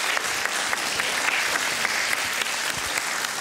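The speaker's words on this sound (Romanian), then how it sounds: "Poate să aplaude cine e născut în București?" Applause from part of a Bucharest comedy audience, a steady, fairly dense clatter of many hands clapping throughout, moderately loud with no talking over it.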